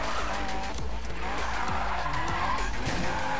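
Tires screech and skid continuously as a Mazda MX-5 drifts in the Need for Speed racing game, a loud sustained squeal over engine roar with no talk.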